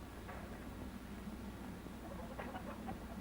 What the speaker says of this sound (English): The chickens jump and fly from their roosts. First the rooster, and then the hens. They are white leghorn chickens